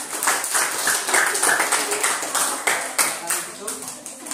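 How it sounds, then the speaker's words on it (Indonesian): Classroom clapping from students applauding a presenting group, a light, uneven patter of hands at moderate distance that carries on for a few seconds. "Tepuk tangan untuk kelompok 3."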